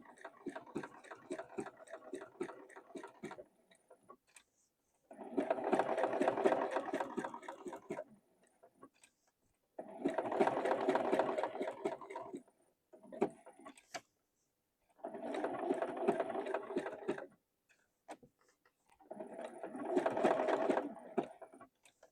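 A sewing machine stitches around a small mouth shape on a little Christmas gift, running in four separate bursts of a few seconds each, with quiet pauses and faint ticking between them.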